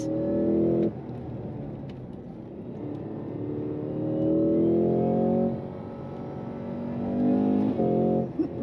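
A 2026 Cadillac CT5-V Blackwing automatic accelerates hard from inside the cabin, its engine note climbing through several gear shifts with brief dips between pulls.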